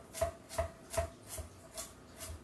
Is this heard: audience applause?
no